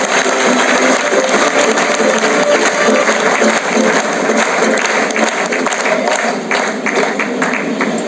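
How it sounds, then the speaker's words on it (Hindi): A large seminar crowd at a business meeting in Gurgaon bursts into loud, continuous applause, a dense wall of clapping sustained without pause, close and intense throughout. "एक बार जोरदार ताली सुनील शर्मा जी"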